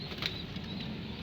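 Pigeons take off together on an overcast early morning, a brief close burst of flapping wings that fades into a soft steady flutter, with no voices.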